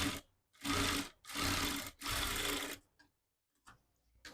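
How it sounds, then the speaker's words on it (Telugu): A sewing machine runs in three sustained close bursts over a folded blouse lining, then a few short faint stitching spurts follow after a pause. "లైనింగ్ని లోపలికి మడుచుకొని దీనిపైన ఒక స్టిచ్ అనేది వేసుకోవాలి."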